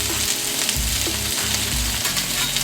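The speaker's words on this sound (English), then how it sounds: "I'm gonna go ahead and try to flip these." Homemade Salisbury steak patties sizzle and fry loudly in a pan while being flipped, a constant close crackle with low scraping bumps from the spatula.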